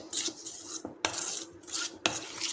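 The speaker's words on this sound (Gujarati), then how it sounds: "તો ઘી ખાંડ અને સફેદ તલને આપણે અહીંયા આ રીતે મિક્સ કરી લેવાનું છે સારી રીતે" A spoon mixes ghee, sugar and white sesame seeds in a bowl, giving close, gritty scraping strokes against the bowl in a loose rhythm of about four passes.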